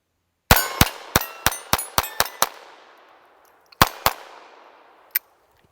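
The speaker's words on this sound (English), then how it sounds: "So let's shoot it a few more times" A pistol fires a rapid string of about eight sharp, loud shots, pauses, then fires two more close together and a fainter single shot, each crack ringing out briefly outdoors.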